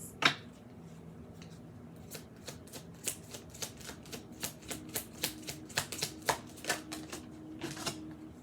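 A deck of cards being shuffled in a run of crisp, evenly spaced riffling snaps, close and fairly quiet, with no talk.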